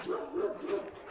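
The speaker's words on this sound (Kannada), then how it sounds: "ಹೆಂಗೆ ಹೋದ್ರು ಏನು ನಾಯಿ ಇದೆ ಇದು, ಡೇಂಜರು." A dog barks in a dense forest near Elva village, Estonia: a few quick, mid-distance barks in close succession, fairly clear over quiet woodland background.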